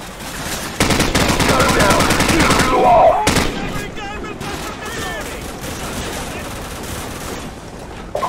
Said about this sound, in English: Jackson, use their machine gun.